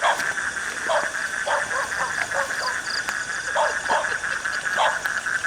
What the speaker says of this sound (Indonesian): Kita sudah interaksi dengan suara lolongan anjing.